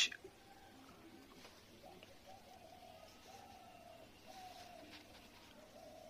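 Pigeons in a loft, among them young birds and birds sitting on eggs, give soft, low cooing calls. The calls are faint and repeat over quiet background rustling.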